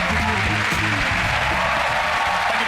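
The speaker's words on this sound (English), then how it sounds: "Everyone else will give you a huge round of applause." TV studio audience on a magic competition show applauding, a dense steady wash of clapping that fills the whole stretch at close, loud level.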